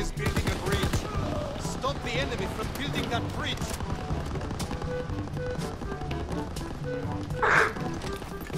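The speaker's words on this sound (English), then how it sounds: "The MG turret in the barn." Machine gun fire from a mounted MG turret in a barn during a Call of Duty WWII match, rattling through a dense, busy mix of game gunfire and noise with speech-like sounds underneath.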